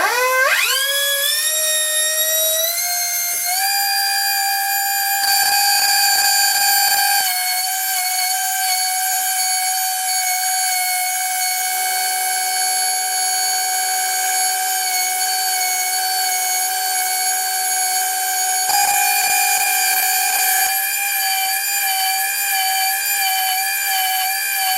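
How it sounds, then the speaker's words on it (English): A loud, steady high-pitched whine of an abrasive cutoff disc grinding through a metal collet chuck, rising in pitch at the start and holding a shrill tone for a long stretch. "Let's see what this cutoff disc can do."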